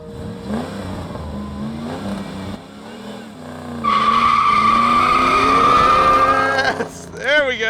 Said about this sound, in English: I heard the tires chirp.